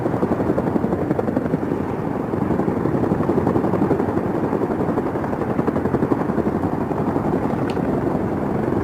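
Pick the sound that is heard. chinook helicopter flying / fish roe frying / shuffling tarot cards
chinook helicopter flying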